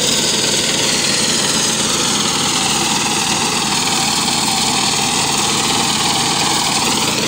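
A Husqvarna grass sod cutter's engine runs continuously at close range, a loud, steady mechanical drone with no pauses or voices.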